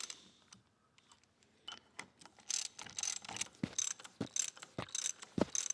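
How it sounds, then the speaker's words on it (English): A socket wrench with an 8-point socket ratchets square-head bolts tight on a blacksmith blower, making close rapid clicking bursts that grow busier and louder, with a few soft knocks and no talking. "And then our screws bolt all this down in the bottom. And now I'm going to tighten all these up."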